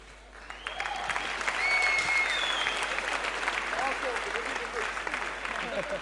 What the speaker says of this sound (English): Så en stor applåd till Delpan, Martin.